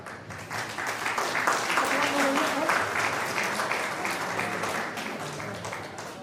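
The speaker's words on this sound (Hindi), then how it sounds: "जोरदार तालियां" Loud, sustained audience applause at a Birsa Munda 150th birth anniversary celebration, a thick wash of many hands clapping steadily throughout.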